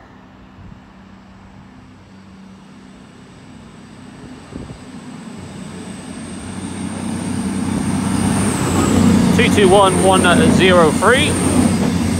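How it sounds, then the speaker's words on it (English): A Voyager diesel multiple unit passenger train runs through Stafford station on the West Coast Main Line, a low rumble building steadily louder as it nears, with someone speaking over the approach. "Looks to be formed of a Voyager formation, not a Pendolino."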